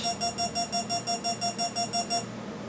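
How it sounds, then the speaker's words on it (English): A rapid series of about a dozen short, high electronic beeps at an even pace from an EDF jet's electronic speed controller arming, then they stop, with a faint steady hum underneath. "Beep, beep, beep, beep, beep."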